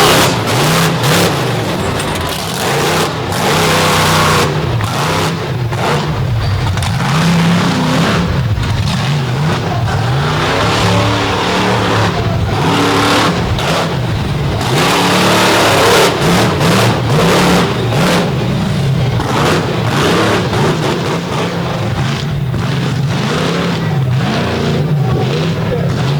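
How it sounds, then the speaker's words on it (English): A Ford pulling truck at a truck-pulling event revs hard and holds a loud, sustained engine roar through the whole run, with a commentator talking over it. "You can see the truck is getting up and making horsepower now that he can really get in it and kind of stay in it"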